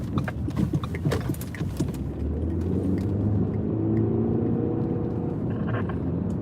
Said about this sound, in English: I have to go over my least favorite road right now. Full of potholes.